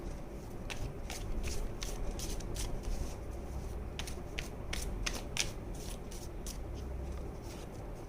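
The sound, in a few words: shuffling tarot cards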